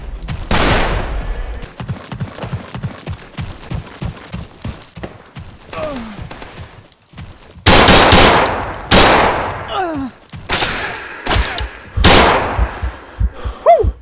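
Machine gun fire in a realistic World War II shooter game, loud rapid bursts of automatic shots, some close and sharp, others trailing off, broken by short pauses.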